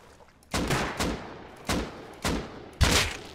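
Gunfire in the survival game Rust: a rapid string of loud, close gunshots in about five sharp bursts spaced roughly half a second apart, with no talking.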